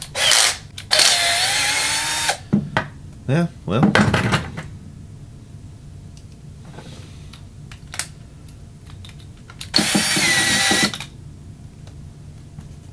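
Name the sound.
power tool driving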